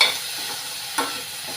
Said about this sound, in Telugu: ఈ ముద్ద ఎంత బాగా తాలింపులో వేగితే కూర అంత టేస్ట్గా ఉంటుందన్నమాట